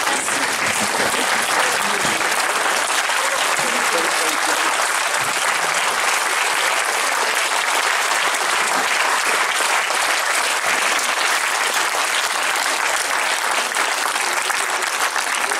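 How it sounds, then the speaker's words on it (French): A large festival audience stands and applauds steadily, dense continuous clapping that stays loud for the whole stretch. "Est-ce qu'on ne pourrait pas se lever pour applaudir?"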